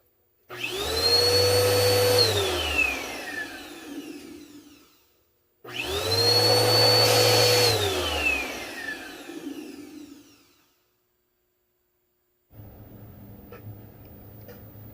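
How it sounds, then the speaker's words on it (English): A vacuum cleaner whirs up to a loud steady whine, cuts off and winds down, starts again for several seconds, then a lower hum follows. "I'll turn a vacuum on that I have here as well."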